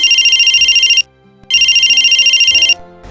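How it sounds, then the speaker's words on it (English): A mobile phone ringtone plays indoors in two loud bursts of rapid, trilling electronic tones, separated by a short gap of quiet. "your phone"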